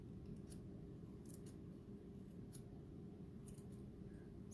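Scissors snip through paper for a kids' fish craft, several quiet short cuts scattered over a steady background hiss, with no talking.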